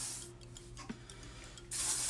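Hair shine spray hisses from an aerosol can in two short bursts, one at the start and one at the end, close and fairly loud, with quiet handling sounds between.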